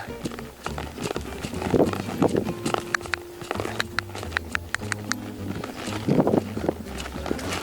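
Horse hoofbeats during a reining pattern warm-up, rhythmic clip-clop of a jog moving up into a lope, close and fairly clear with scattered background noise.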